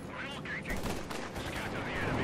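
Bursts of rapid gunfire in the video game Company of Heroes 2 crackle through a busy, noisy mix, with voices faintly in the background.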